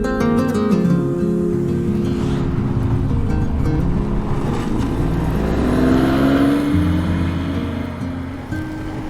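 A Porsche 996 engine pulls hard down the road, a loud, continuous drone climbing steadily in pitch as the car accelerates, close and unbroken for about nine seconds before easing off at the end.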